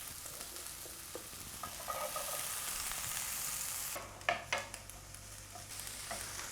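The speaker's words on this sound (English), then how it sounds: "now we are going to roast our red peppers" Red peppers roast in oil in a pan with a quiet, steady sizzle and hiss, broken by a few stirring scrapes and louder crackles partway through.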